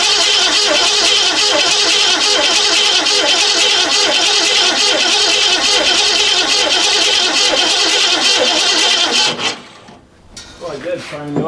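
A 1964 Ford Fairlane engine cranking over steadily to prime the oil, a loud continuous whirring churn that stops abruptly near the end, followed by faint voices.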